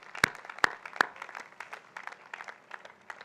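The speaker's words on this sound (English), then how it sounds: "A big round of applause, ladies and gentlemen, for everybody here" An audience at a convocation ceremony claps, opening with three sharp, distinct claps and settling into quieter, scattered applause that fades somewhat, heard at a distance.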